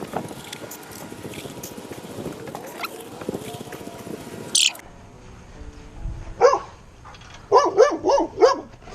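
A dog barks in short bursts near an outdoor shed during truck work, with a single yelp midway and then a rapid cluster of loud barks toward the end, over background noise.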